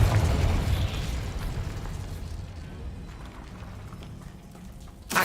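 Confringo blasting spell in the Hogwarts Legacy video game, a heavy booming explosion at the start that rumbles and fades into a crackling decay, followed by a short sharp burst at the end.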